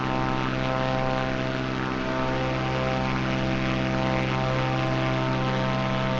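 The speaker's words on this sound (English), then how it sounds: "We are now here with our plane. We're flying about almost 400 kilometers an hour." Propeller airplane engine in a flight video game, cruising near 400 km/h about 1,000 meters up: a loud, steady, unbroken droning hum with layered tones throughout, no voices.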